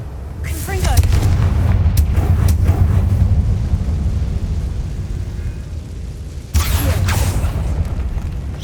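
Confringo fire spell blasts in the Hogwarts Legacy video game, a sustained loud booming roar with heavy low rumble, then a fresh burst near the end.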